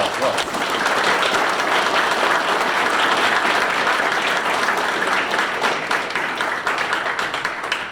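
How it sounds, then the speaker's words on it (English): Steady applause from an audience at a morning celebration of trade certifications in core, electrical and carpentry work, a dense wash of many hands clapping at full strength for the whole stretch. "Round of applause."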